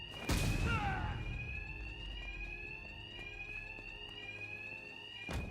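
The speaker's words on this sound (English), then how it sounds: "these thugs can't hear a thing over the alarms" A steady, piercing electronic alarm rings continuously in Batman: Arkham Knight, loud and unbroken, opening with a sharp crash and low rumbling game ambience underneath.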